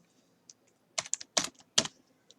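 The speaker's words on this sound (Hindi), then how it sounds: "सो यहाँ पर एक फार्मूला टाइप करते हैं" A few light keystrokes on a computer keyboard while entering a spreadsheet formula: scattered soft taps, then three louder clustered clacks close by, in an otherwise quiet room.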